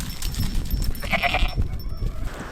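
A three-legged farm goat gives a short bleat outdoors, a brief nasal cry rising above steady wind and background rumble.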